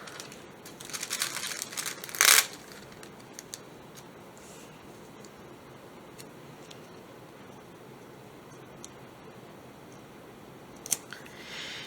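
Scissors snip through paper in a planner with a short, crisp burst of cutting and light crinkling near the start, a faint tick later, and a quiet room otherwise.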